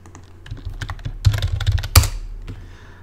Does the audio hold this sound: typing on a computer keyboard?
yes